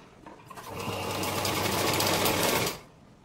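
A sewing machine runs a steady, close stitching burst of about two seconds while sewing a four-tuck blouse, starting up quickly and stopping abruptly.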